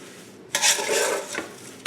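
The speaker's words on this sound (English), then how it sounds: "I'm just going to give it a good stir" Strawberries and sugar are stirred in a pot, a short burst of scraping and rustling contact after a brief quiet start, ending with a light tap.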